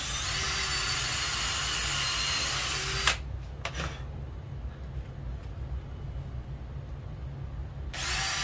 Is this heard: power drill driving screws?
yes